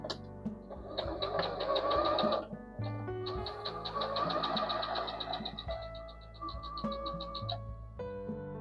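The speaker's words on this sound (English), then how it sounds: "I'm going to stitch a 1/4 inch" A sewing machine runs a quarter-inch seam through pieced hexagon and triangle quilt fabric, giving off a steady, rapid stitching chatter in a few long bursts with brief pauses between them.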